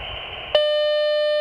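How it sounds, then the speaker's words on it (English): Dispatch alarm for paramedics sounds as a sudden loud electronic tone, a steady sustained beep with bright harmonics that cuts in after a low background hum and holds to the end. "When the alarm sounds, these paramedics jump into action."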